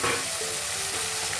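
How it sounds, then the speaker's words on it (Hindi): Chopped tomatoes go into browned onions frying for Malwani chicken curry, giving a steady, close sizzle with light stirring throughout. "अभी काटिंग किया हुआ टमाटर डाल देते हैं।"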